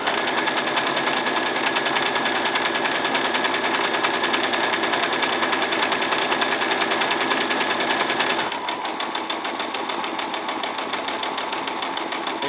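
Close and loud, a sewing machine sews a row of long straight stitches on a doll's skirt in one continuous run, its pitch dropping slightly near the end.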